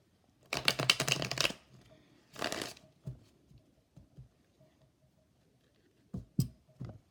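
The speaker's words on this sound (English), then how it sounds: "so now we're going to pull your cards" Tarot cards shuffled in several quick riffling bursts near the start, followed by softer scattered taps and shuffles of the deck handled close by, with no talking.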